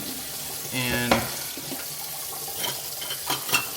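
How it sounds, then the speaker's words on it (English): Kitchen sink filling from the tap, a steady rushing stream of water with clinks of dishes nearby and a voice speaking briefly over it. "fill it up with water."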